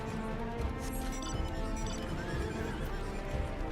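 A lightning horse in a fantasy video game whinnies over a dense, continuous wash of game noise, with hoofbeats clopping beneath it.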